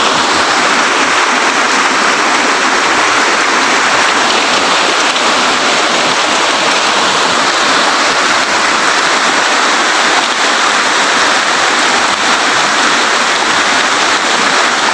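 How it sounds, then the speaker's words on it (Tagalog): Steady rain patters densely on plant leaves at a farm, a close, constant hiss that keeps going without a break and with no voices. "Dinig na dinig ang patak ng ulan sa dahon ng ating mga halaman."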